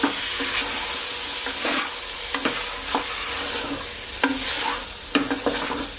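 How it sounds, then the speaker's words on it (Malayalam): Marinated chicken frying in a masala for chicken rice, a continuous close sizzle broken by repeated scraping strokes of a spoon as it is stirred, several sharp clicks against the pan. "അതിനുശേഷം നമ്മളിവിടെ മാരിനേറ്റ് ചെയ്ത് വെച്ച് ചിക്കൻ ചേർത്ത് കൊടുക്കണം. നന്നായിട്ടൊന്ന് മിക്സ് ചെയ്തെടുക്കാം."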